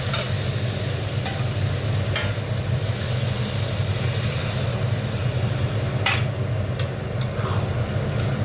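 Prawn masala sizzles steadily in a hot pan as water goes in, a dense, even hiss with faint stirring scrapes and a few brief clinks over about eight seconds, no voices.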